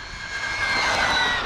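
A Traxxas Bandit VXL or Arrma Typhon RC car on a road speed run at full throttle, a loud continuous high-pitched motor whine held steady and close.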